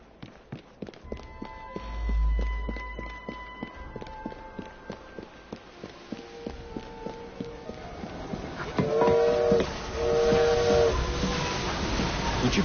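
A steam train engine in Assassin's Creed Syndicate chuffs in a steady rhythm with hissing steam, then a loud steam whistle sounds twice near the end, with no talking.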